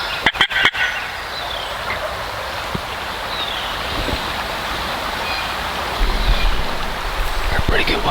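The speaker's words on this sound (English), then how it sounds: "2 different gobblers that roosted together." Two wild turkey gobblers gobble at a distance across fields during a North Carolina spring turkey season, faint rattling calls rising over a constant outdoor hiss, with a few sharp knocks at the start.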